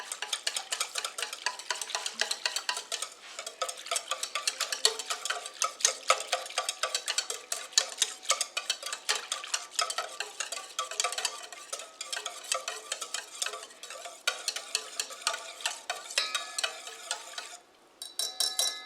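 Key lime pie filling stirred steadily in a bowl, a continuous soft scraping and swishing with quick repeated strokes, close and fairly loud, with no talking.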